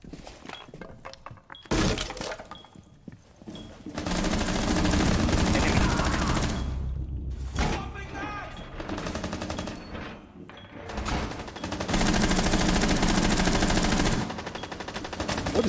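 Rapid bursts of video game gunfire, loud and dense, with sharp breaking and clattering impacts in several long volleys separated by brief pauses.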